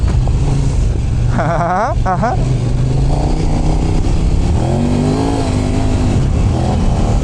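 A Kove 800X Pro motorcycle engine hums loudly during a ride, its pitch climbing and falling as revs rise through the gears, with heavy wind rush throughout.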